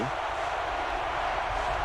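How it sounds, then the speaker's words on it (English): Stadium crowd roaring in the college football video game NCAA Football 12, a steady dense wash of cheering noise that fills the whole moment without breaks. "And this crowd is going absolutely crazy."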